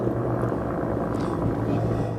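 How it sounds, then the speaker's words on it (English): A search helicopter passes overhead above Daingerfield Island on the Potomac in Washington, DC, after a plane crash, a steady low rotor rumble that drones on with no break. "you can hear actually the helicopter coming over me here on Dangerfield Island"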